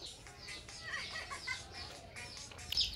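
Young Sonali chicken chicks cheep faintly with scattered high chirps over quiet background noise.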